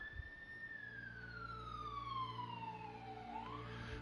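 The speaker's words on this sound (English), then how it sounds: "I hear ambulances back and forth waking my ass up all the time." An ambulance siren wails past near a hospital. A single long tone falls slowly in pitch as the vehicle moves away, set against steady street noise.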